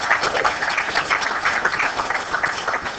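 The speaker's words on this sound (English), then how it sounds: "Let's get a round of applause for your own New York City" A tournament crowd at a straight pool world championship applauds a New York City player, loud, sustained clapping from many hands with a dense, even texture and no voices over it.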